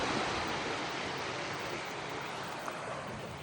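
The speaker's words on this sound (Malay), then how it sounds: "bunyi air ombak ni sendiri pun dah healing kan" Ocean waves wash ashore at Batu Hitam beach in Kuantan, a soft, continuous rushing hiss that stays fairly faint and even, with no voices.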